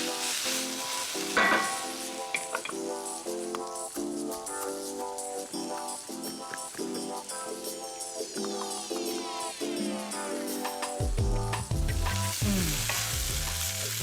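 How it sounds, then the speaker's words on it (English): Onions sautéing in a pan for onion soup, a steady sizzle with stirring scrapes continuing for over ten seconds, clear and close with no talk. "These onions look so good. They've been sauteing for 10 minutes."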